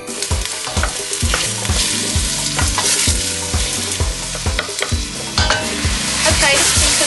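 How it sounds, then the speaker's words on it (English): A Caribbean mutton curry base fries in a pan, giving a steady loud sizzle broken by repeated scraping stirs of a spoon, with no talk. "mix this around a bit and let it start to fry and start to sizzle up"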